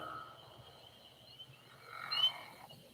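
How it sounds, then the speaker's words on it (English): A pickerel frog in Connecticut gives a long grinding, snoring call, faint and somewhat distant, over a quiet night chorus with thin steady tones from other frogs. "That long grinding one, that is a pickerel frog."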